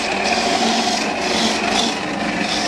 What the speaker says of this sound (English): How to prepare coconut, grate coconut for making a coconut milk.